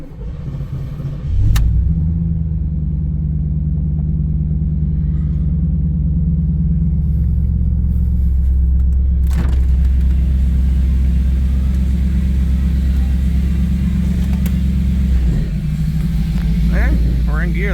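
A 1989 Pontiac Trans Am GTA engine runs steadily and loudly as the car drives through its gears, a deep continuous rumble with a brief rise early on and slight shifts in tone, heard from inside without speech.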